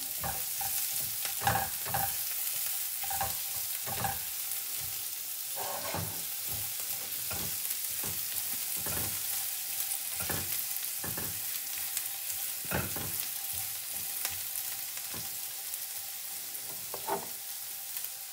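Carrot pieces fry in a pan under a constant soft sizzle while a spoon repeatedly scrapes and stirs them. The stirring comes in regular close strokes, and no one talks.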